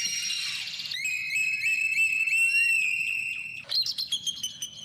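Clear, high whistled cardinal calls ring out, several sliding notes followed by a quick run of sharp chirps, fairly close against a faint outdoor background near a beach.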